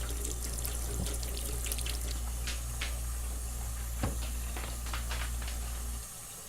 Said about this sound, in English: Is that water running?